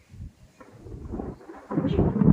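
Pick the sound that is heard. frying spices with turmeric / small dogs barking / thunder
thunder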